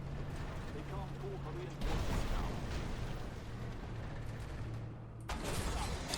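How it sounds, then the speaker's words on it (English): Tank cannon fire from the Stingray 2 light tank in Armored Warfare while it moves: a heavy blast near two seconds and another near five, over a steady engine and track rumble, with no talk. "Shooting on the move."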